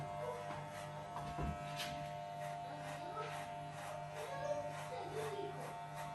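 Electric hair clippers hum steadily and close while cutting a fade band around a head during a home haircut, a constant buzz with faint scraping through the whole stretch.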